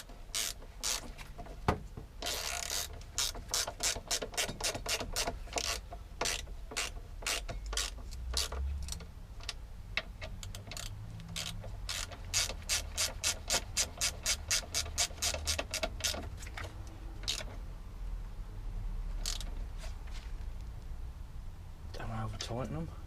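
Ratchet tightening the front brake caliper bolts on a Japanese motorcycle, a long run of rapid, evenly spaced clicking strokes close up, with brief pauses between bursts and a low background hum.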